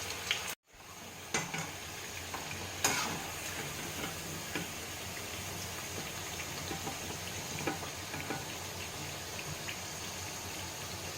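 Sliced bitter gourd fries in hot oil with a quiet, even sizzle close by. Small ticking pops and one sharp clack break it up, and there is no talk.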